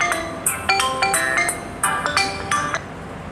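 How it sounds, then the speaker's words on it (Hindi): A mobile phone rings with an incoming call from a delivery man, a bright repeating chime melody of ringing notes, loud and close, with no talk. "ये देखिए हमारे डिलीवरी वाले का ही फ़ोन आया है"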